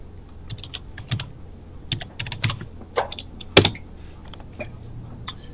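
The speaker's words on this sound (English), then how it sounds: "First thing we want to do is type in the web address of your site" Keystrokes on a computer keyboard typing a web address, a fast irregular run of clicks close to the mic, with a few sharper, louder taps standing out and no speech.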